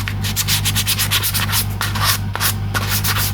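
Hand sanding of grain filler on a vintage Fender Telecaster body with sandpaper, quick repeated rasping strokes in a brisk back-and-forth rhythm, close and fairly loud over a steady low hum.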